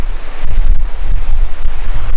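Strong wind and breaking surf at a sand dollar beach on a remote New Caledonia island, loud and continuous, with gusts rumbling against the microphone.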